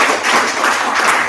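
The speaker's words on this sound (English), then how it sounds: "So everybody, if you would give them a big round of applause." An audience applauds newly introduced board members at a public meeting, a dense, steady wash of many hands clapping close and loud throughout.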